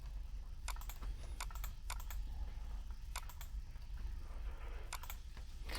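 Data typed on a computer keyboard in MS Word, heard as irregular bursts of crisp key clicks in quick clusters over a steady low room hum, with no speech.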